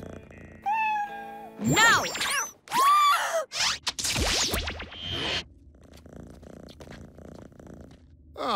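A cartoon cat meows in several rising and falling cries, then settles into a low, rumbling purr, with a sharp gasp and a shouted voice breaking in between.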